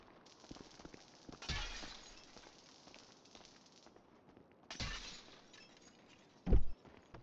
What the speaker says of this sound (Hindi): भाई इसके सारे कांच फूट गए बे